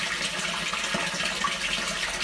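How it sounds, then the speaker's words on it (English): Water runs continuously through an underground drain line toward a manhole, a steady hissing gush at moderate loudness with no voices. "So we're going to let this water run for quite some time."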